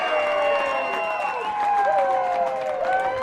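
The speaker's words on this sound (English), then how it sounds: "Big cheer for Cade Mosinee from his team, from his fans and teammates" Baseball crowd at a 2023 high school night game between Mosinee and Waupaca cheers and applauds for a base hit, a steady, loud roar of voices and clapping sustained throughout with scattered whoops.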